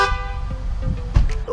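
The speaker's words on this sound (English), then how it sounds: "Actually, I need a honk just to make it more dramatic." A car horn gives a short, sustained toot that fades within a fraction of a second, followed by the low rumble of a vehicle and a brief knock.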